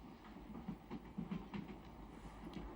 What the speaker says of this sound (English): we are now on a Russian train